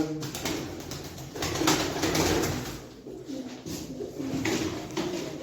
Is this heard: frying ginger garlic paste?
no